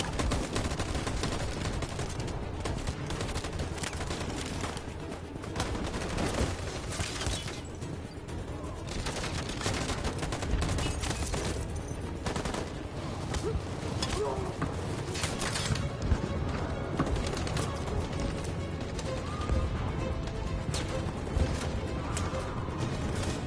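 Sustained gunfire in the PS4 game Detroit: Become Human, dense overlapping shots and bursts forming a loud, continuous barrage with crashes mixed in throughout.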